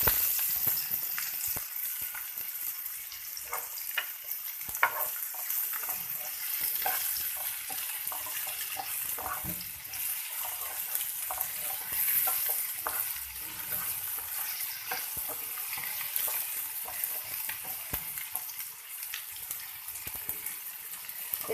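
Onion, green chili and tomato fry together in a pan for aloo chana chaat, making a soft, even sizzle throughout with occasional stirring clinks, fairly quiet and steady, no talking.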